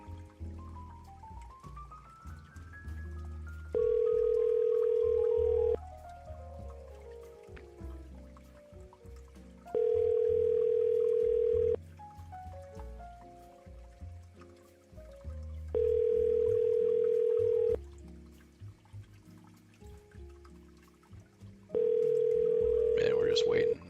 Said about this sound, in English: There, now it's ringing.